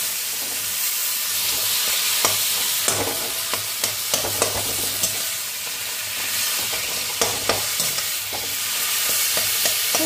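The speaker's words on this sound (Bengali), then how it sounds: "এবার এর মধ্যে এই যে কচুর শাকগুলো ঢেলে দেবো।" Taro leaves cooking in a little oil in a pan, a steady close sizzle and hiss with scraping stir strokes recurring throughout, no voices.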